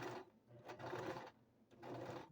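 Sewing machine stitching a throw pillow made from microfiber towels, heard in three short close bursts separated by brief pauses, with no talking.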